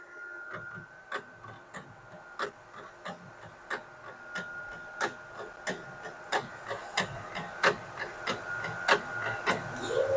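A Ricoh Ri 4000 DTG printer prints onto plexiglass, its carriage giving a steady series of sharp clicking ticks about twice a second, close and clear with no talking.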